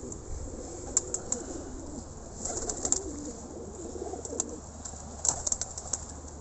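Pet pigeons kept in a loft in winter coo repeatedly in soft, low rolling calls at close range, with sharp chirps and faint rustling scattered over a steady background hiss.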